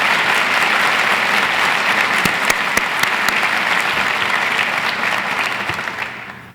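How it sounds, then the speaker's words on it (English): At a university State of the University address, an audience applauds the First Lady with a full, steady round of clapping that holds for several seconds, then fades out. "Let's give her a round of applause."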